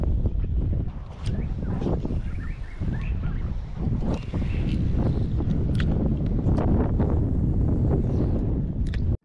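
Steady wind gusting across the microphone with a low rumble, continuous and fairly loud, with faint creaks and knocks underneath.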